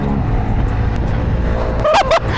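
Honda Grom motorcycle run at full throttle on a freeway, a steady loud engine and wind roar throughout with a brief rising whine near the end, as if shifting or passing traffic.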